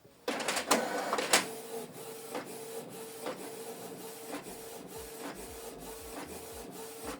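A Canon TS3752i inkjet printer runs a page with a steady mechanical whir, a regular clicking pulse about once a second, and louder feed clatter at the start, alone and fairly quiet.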